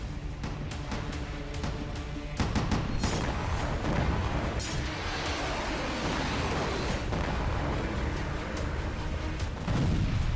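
Explosions strike areas of Israel in news footage, with a rapid series of loud, heavy booms and blasts that roll on continuously, sharp cracks rising above a thick rumbling roar.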